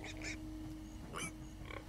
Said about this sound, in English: Stupid pigs.